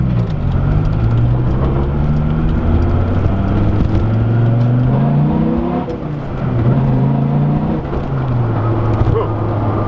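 A 2003 Dodge Viper SRT-10 engine drones loudly from inside the car while driving, its pitch climbing through repeated rising sweeps as it accelerates and shifts, a continuous heavy rumble with no talk.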